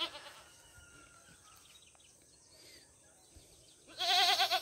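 Goat bleats in cold weather on a farm where a carabao is also kept: a loud, harmonic bleat bursts in at the end, following a stretch of quiet rustling and faint background sounds.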